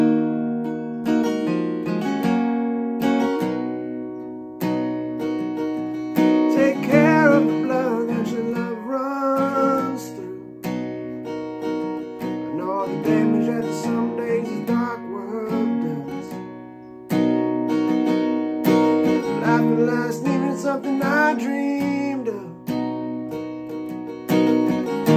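Acoustic guitar plays the ending of a song solo and without vocals, strummed chords ringing close and full with brief pauses between phrases.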